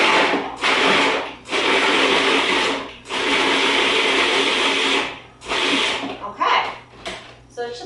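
A food processor pulses a veggie burger mixture in repeated bursts of grinding motor whir, each one to two seconds long with short pauses between, close and loud.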